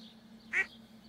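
A single short duck quack from the farming video game Stardew Valley, clear and close over a faint steady background hum.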